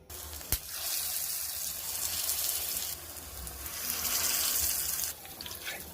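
Shaped fritters fry in hot oil on a tawa, giving a continuous loud, close hiss that swells and eases slightly, with a single sharp pop early on and no talking.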